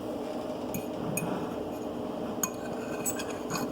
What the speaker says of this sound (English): you just scrape around the bottom